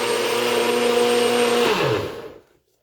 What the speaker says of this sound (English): this is a very good blender